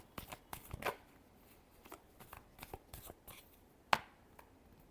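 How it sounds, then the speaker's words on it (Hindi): Tarot cards are shuffled by hand in a series of crisp riffling flicks and soft slaps, close up and alone, ending in one sharper snap of the deck. "last shuffle"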